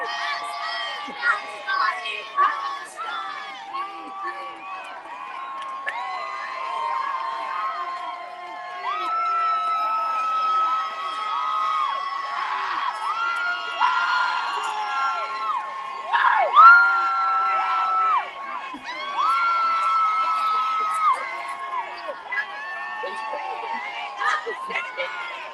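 Outdoor crowd at a flag raising, with sustained cheering and children's high shouts rising and falling over a busy murmur of many voices.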